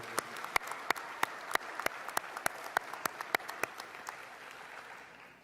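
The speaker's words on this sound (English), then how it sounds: "Let's give them a round of applause to all our teachers and faculty." At a high school graduation ceremony, a handful of sharp, evenly spaced claps ring out faintly over a soft room hush, thinning and fading toward the end.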